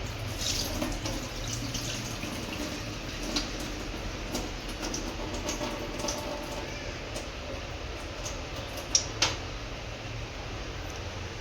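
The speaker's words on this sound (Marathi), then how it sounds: "ह्यामध्ये आपल्याला पाणी टाकून घ्यायचं आहे बघा दुसरं पाणी किती स्वच्छ निघलेलं आहे" Water pours and splashes over lentils being washed in a kitchen, a steady soft running-water wash with a few drips and two brief knocks near the end.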